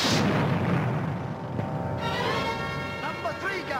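A ship's cannon fires aboard a sailing vessel in a 1950 pirate film, giving a loud, dense boom that fills the opening and then settles into a rumbling tail, with a shouted order and a rising musical score over the decay.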